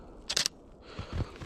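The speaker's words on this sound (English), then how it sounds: "I'll take a photo of my shoes." A camera shutter taking a photo of shoes on a grassy forest floor: a quick, crisp mechanical click-clack, followed by faint low thumps and rustling.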